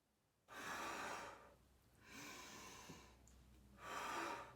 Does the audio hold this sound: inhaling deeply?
yes